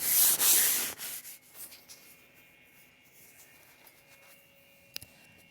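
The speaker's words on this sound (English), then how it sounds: "So all we want to do is scratch it lightly." Light scratching and rubbing across a wall ahead of priming, a brief close burst of abrasive scraping at the start that fades into quiet room tone with a small tap near the end.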